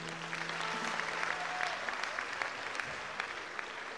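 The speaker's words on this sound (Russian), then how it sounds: "как приятно слышать ваши оглушительные аплодисменты" Sustained applause from a concert audience, a dense steady patter of clapping throughout, fairly distant and even in level.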